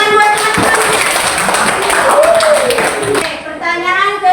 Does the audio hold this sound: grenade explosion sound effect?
no